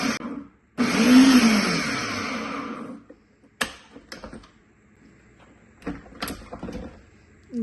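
An electric vegetable chopper chops potatoes in one loud, close whirring burst of about two seconds, then falls quiet apart from a few sharp knocks and clicks.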